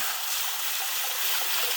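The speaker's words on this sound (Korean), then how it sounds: "물 샤워를 해주시는 거예요" Water sprays steadily in a fine, continuous hiss as it showers over the surface of an oyster mushroom growing kit during rinsing, close and alone without talk.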